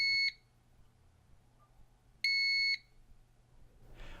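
A The-Voice Modularm kitchen alarm in test mode gives two loud, shrill electronic beeps, each about half a second long and nearly two seconds apart, with quiet room tone between them.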